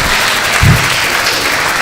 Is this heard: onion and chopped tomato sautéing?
no